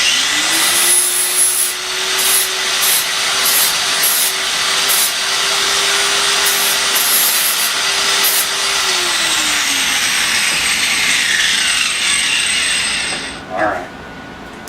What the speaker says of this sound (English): pull that corner off there, deburr that real quick so it doesn't mess anything up